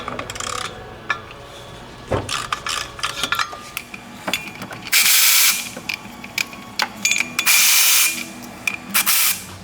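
Power tool and ratchet work on the E14 bolts holding the drive shaft of a 2014 BMW 328i F30, with bursts of loud high whirring between clicks and metallic clanks, close and without talk.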